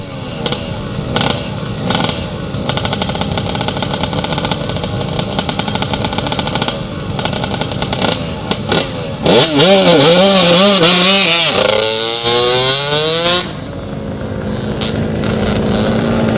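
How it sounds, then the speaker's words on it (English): A Honda RS125 two-stroke racing motorcycle in Joey Dunlop replica livery screams loudly at a hillclimb speed event, its engine revving hard and rising through the gears at close range, then holding a steady high-pitched drone. "This was Andrew Lupton's lovely Honda RS125."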